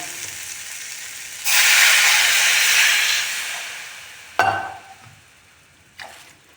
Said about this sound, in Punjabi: ਹੁਣ ਵਿੱਚ ਪਾਣੀ ਪਾ ਦਿੰਨੇ ਆ